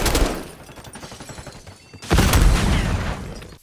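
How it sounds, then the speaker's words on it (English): Gunfire in a team deathmatch in the video game Call of Duty Black Ops 6, loud crackling bursts of automatic fire that fade, then return sharply after a brief gap, with no talk over it. "The sound design, the crackles of gunfire, it's still a blast."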